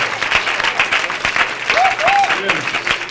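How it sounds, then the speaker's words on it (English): Audience applause at a news program event, a steady wash of clapping hands filling the room, fairly close and sustained, with a brief voice rising over it partway through. "Let's give him a big round of applause."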